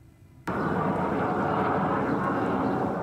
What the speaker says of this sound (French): Un véritable balai d'avions de chasse israéliens F-16